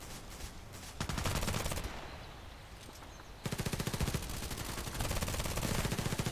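Rapid automatic gunfire in the online shooter Contract Wars, with several bursts of sharp, evenly spaced shots that are loud and close, separated by a brief quieter gap, and no voices.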